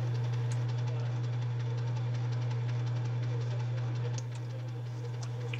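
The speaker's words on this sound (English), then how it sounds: "Parting is done by using a combination of speed or RPM and the feed rate of a cutter." Logan 2557TH metal lathe making a parting cut, a steady low motor hum with a continuous mechanical drone and faint rhythmic ticking, close and even throughout.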